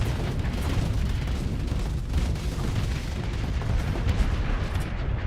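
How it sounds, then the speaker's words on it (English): Space video game combat fills the scene with continuous, dense rumbling weapon fire and explosions as wreckage is blown apart, a loud, unbroken barrage without speech. "I'm just going to keep firing to blow up this wreckage"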